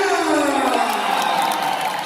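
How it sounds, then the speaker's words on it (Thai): An audience applauding and cheering at an evening event for Surin Malaysia, a dense wash of clapping with occasional shouts, loud and sustained throughout. "ขอให้ทุกคนปรบมือกับสุรินทร์มาเลเซีย"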